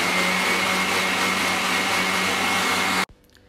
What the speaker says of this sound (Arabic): على الخلاط زي ما انتم شايفين، وهنشغل الخلاط